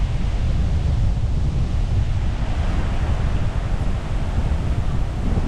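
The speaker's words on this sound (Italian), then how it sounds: "Poi si è messo questo vento." Strong wind blows at the seaside on Boracay, a loud, continuous rushing roar buffeting the microphone with no break.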